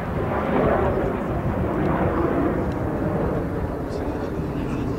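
Fixed-wing aircraft fly in formation at the 1999 Koksijde airshow, giving a continuous loud, rushing engine roar that holds steady for several seconds while a commentator speaks over it.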